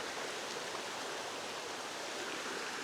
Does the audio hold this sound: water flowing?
yes